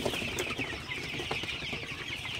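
Sonali chickens in a poultry farm shed, a dense continuous chorus of clucking and chirping from many birds at close range, with no talk.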